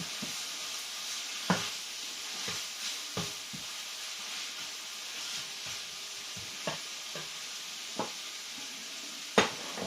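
Butter noodles with onions and sesame oil are stirred in a hot pan, a steady sizzle with irregular scraping and clinking taps from the utensil against the pan. No one speaks.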